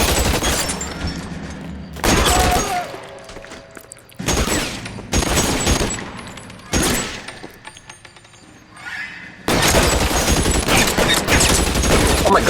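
Gunfire in the video game L.A. Noire, loud bursts of rapid shots and blasts separated by short gaps, ending in a sustained barrage.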